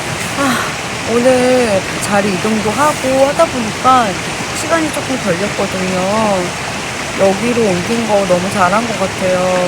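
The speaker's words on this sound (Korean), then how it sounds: "계곡 물소리가 제 앞에서 계속 들리거든요" A mountain stream flows beside a camping spot in a steady, broad rushing wash that continues throughout. A person talks close by over the constant sound of the water.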